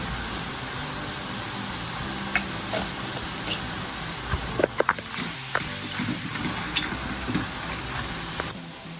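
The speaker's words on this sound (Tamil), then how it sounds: "உப்பும் மஞ்சள் தூளையும் சேர்த்து போட்டு வதக்கணும்." Country chicken sautéing in a pan with salt and turmeric, a steady close sizzle and hiss with scattered scraping clicks and stirring taps, no voices.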